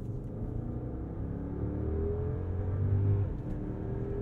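Mercedes-Maybach S 580 V8 engine revving under full throttle, a steady low rumble building to a louder peak near the end, heard from inside the car with no talking.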